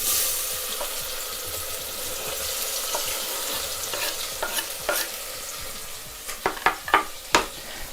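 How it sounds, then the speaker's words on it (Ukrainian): Onion frying with bacon in a pan, a steady close sizzle throughout, joined near the end by several sharp stirring scrapes and clacks of a utensil against the pan. "Цибулю будемо смажувати ну, такого легкого золотистого кольору"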